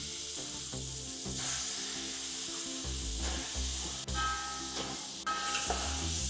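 Shelled avarekalu field beans, about half a kilo, fry in oil for a palav, giving a steady broadband sizzle with faint tonal humming underneath and no voices.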